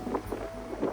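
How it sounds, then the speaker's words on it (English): Wind gusts rumble against the microphone in low, uneven puffs, with a faint steady tone humming underneath. "It's also getting a little bit windy as well."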